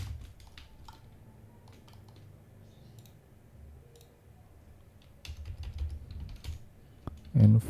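Keys on a computer keyboard are tapped in short, irregular bursts of quiet, close clicks while dimensions are entered in SketchUp, with brief pauses between and a low hum underneath.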